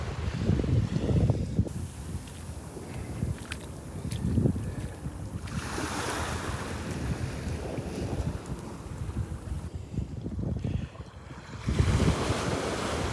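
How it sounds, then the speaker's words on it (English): Ocean surf rolls in on a Gulf beach at Delnor-Wiggins, a steady roar of breaking and washing waves with gusty wind buffeting the microphone throughout. "This is when I like it, when the water's rolling in here,"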